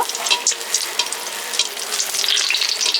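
Sweet ripe palm fruit fritters frying in hot oil, a close, continuous crackling sizzle with bubbling pops, steady and alone without voices.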